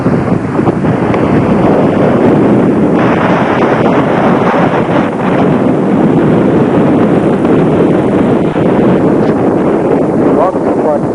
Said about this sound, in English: See the waves.